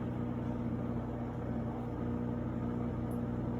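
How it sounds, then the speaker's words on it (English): A Farberware compact portable countertop dishwasher runs a light cycle, giving a steady, constant hum with a low mechanical drone and washing noise that stays even and close throughout, with no talking. "I'm actually doing a light cycle right now, just because I bought some new dishes and I wanted to run them through the dishwasher"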